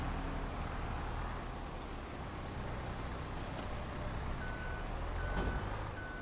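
Steady low engine rumble of a heavy farm vehicle at a barn, with faint high-pitched reversing beeps sounding at a regular pace in the background.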